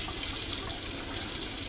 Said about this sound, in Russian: чтобы заполнить нам водонагреватель, обязательно открываем кран горячей воды